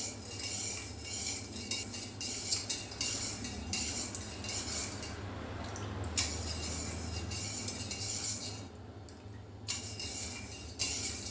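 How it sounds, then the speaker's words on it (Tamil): A spoon stirring juice in a glass, continuous metallic clinking and scraping, steady and close, with no voices. "போட்டு நல்லா கலந்து விட்டுடலாம்."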